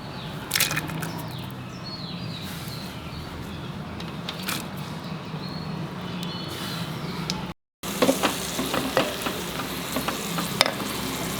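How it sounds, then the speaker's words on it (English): Onions sizzle in hot coconut oil in a pot over a medium-low flame, a close steady frying crackle with repeated stirring scrapes, growing busier after a brief gap, with no speech. "Now as the oil gets hot, I will put in the onions too."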